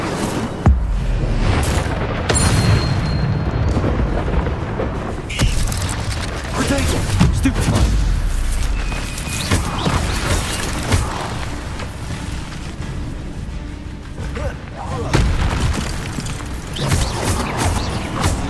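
Incendio fire spells burst in the Hogwarts Legacy video game, a dense run of booming blasts and crackling impacts amid combat noise, with a voice talking over parts of it.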